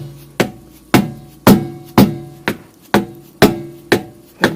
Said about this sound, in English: So now if we can just tap the axle on out